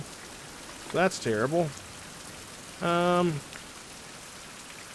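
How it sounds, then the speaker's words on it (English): Rain falls in a 16th-century survival game, a steady, soft hiss running through the whole scene while someone speaks briefly twice over it. "And it's raining again, actually."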